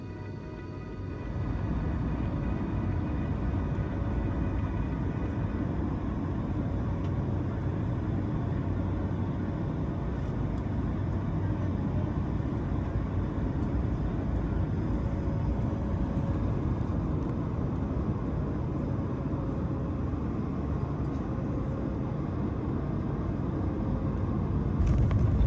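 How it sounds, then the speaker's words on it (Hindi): Delta Airbus A220-300 airliner landing on Austin's runway 36R and taxiing, heard as a steady, loud cabin roar of engine and airflow rumble that holds throughout with no talking. "तूफान जल्दी गुजर गया और 20 मिनट होल्ड के बाद हमने ऑस्टिन के 36R रनवे पर लैंडिंग की"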